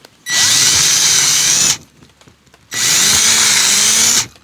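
A power drill whines loudly twice, each burst about a second and a half with a short pause between, as it bores holes in a rawhide dog chew sheath.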